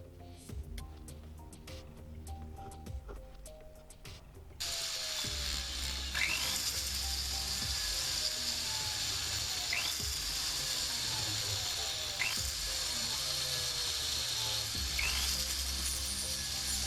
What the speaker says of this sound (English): I take my hand vise that I restored in a previous video and use it to hold the item as I drill it.